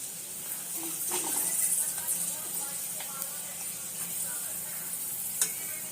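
Papad fries in oil in a home kitchen with a soft, continuous sizzle and occasional stirring scrapes, while people talk nearby.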